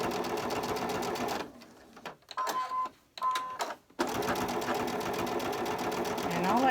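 A sewing machine runs in steady bursts, stitching around a patch with batting and felt on a sweater, loud and close. Two short pauses break the whirring before it resumes continuously.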